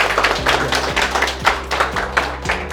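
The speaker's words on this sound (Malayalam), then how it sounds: "ഒരു നല്ല ക്ലാപ്പ് കൊടുക്കൂ ക്ലാപ്പ് കൊടുക്കൂ ക്ലാപ്പ് കൊടുക്കൂ" An audience at a ceremony gives a teacher a round of steady, loud clapping, the claps falling in a fairly even rhythm over a low droning hum.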